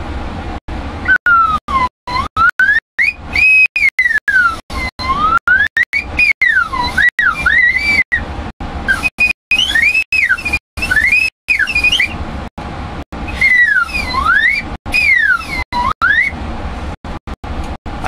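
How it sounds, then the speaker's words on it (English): A slide whistle sound effect repeats in rising and falling glides, loud and close, broken by several short gaps, with no talking over it. "Hear a slide whistle,"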